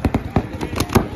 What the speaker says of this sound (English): I end up shooting this person here.